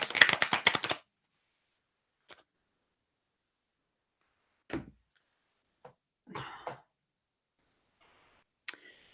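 A quick riffle of tarot cards fluttering close by, followed by quiet scattered taps and soft rustles with long silent gaps.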